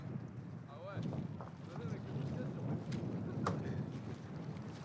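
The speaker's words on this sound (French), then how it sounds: "Sur la crête au-dessus du refuge, le vent se fait sentir." Wind blows hard on the high mountain ridge above a Mont Blanc refuge. It buffets the microphone in a steady, rumbling roar with gusty swells, and faint voices are heard in the background.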